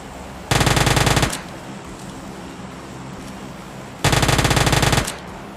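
Two loud bursts of rapid automatic gunfire in the game PUBG, each about a second long, separated by a quieter stretch of low background rumble.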